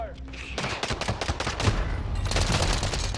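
Gunfire in Call of Duty: Warzone, a dense, continuous crackle of automatic shots and overlapping volleys, loud and close, with brief in-game voice callouts mixed in.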